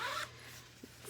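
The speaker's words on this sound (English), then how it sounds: "I can open and close my zipper." A zipper on a sewn handbag's lining pocket zips quickly in one short, close, bright rasp, followed by quiet room tone.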